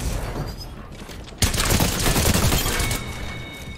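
Video game gunfire, a dense, continuous crackle of rapid shots that jumps suddenly louder partway through and keeps going at a steady clatter, with no voices.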